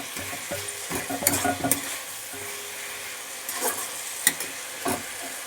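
Jute leaves stirred and sautéed in a hot pan, with repeated scraping strokes and soft sizzling coming in bursts, close up and without talk.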